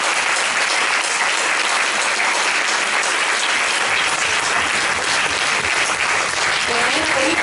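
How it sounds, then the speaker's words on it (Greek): Audience at a Greek cultural association's theatre event clapping loudly and continuously, a thick, steady wall of applause with no break. "Και θέλω ένα πολύ μεγάλο χειροκρότημα."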